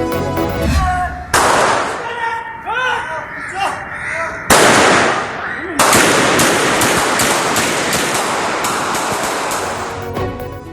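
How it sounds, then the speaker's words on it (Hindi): Loud, rapid bursts of gunfire ring out in a daytime street shootout between police and three house robbers near Dalmia in Karachi, several sustained volleys crackling one after another with voices in the background. "कराची में दिन दिहाड़े सरेआम गोलियों की तड़तड़ाहट"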